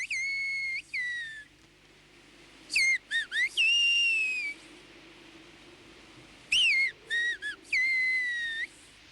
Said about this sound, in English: people in Aas who practice and understand a whistled language